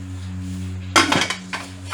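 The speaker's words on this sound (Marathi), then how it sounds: "आणि आता आपण कुकरचं झाकण बंद करून" Metal lid of a pressure cooker being fitted and clanked shut in a home kitchen, a sharp clatter followed by a few lighter knocks over a low steady hum.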